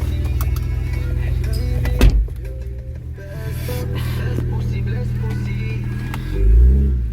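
A BMW 335i with the N54 engine accelerates on pump gas during a road test drive, its low engine drone steady with a gear shift and a brief thump midway, then a swell of revving near the end, with talk over it.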